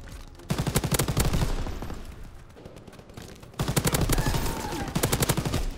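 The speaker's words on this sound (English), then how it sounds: "All right, we got the MG42 here." MG42 machine gun in Call of Duty WW2 firing in two long, rapid bursts separated by a quieter lull, loud and close, with dense rattling shots and no talk.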